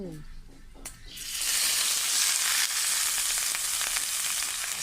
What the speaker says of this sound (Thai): ให้น้ำมันร้อนนะคะ เอาตำลึงใส่ไปเลย